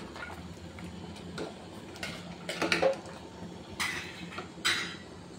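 Country chicken curry stirred in a pot on the stove, then covered with a plate, with scattered metallic scrapes and clinks and a couple of louder clanks near the end, close over low room noise.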